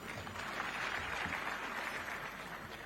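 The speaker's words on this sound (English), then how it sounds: "Let's clap for Mr. Robinson." An audience at a private sector development forum claps for Mr. Robinson, a soft, steady wash of applause that sounds fairly distant and stays even for the whole stretch.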